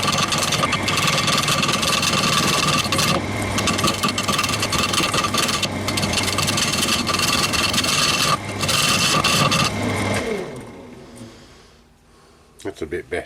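A glued segmented wooden ring spins on a wood lathe as a cutting tool scrapes it, making a loud, continuous rasping roar that winds down near the end as the lathe stops.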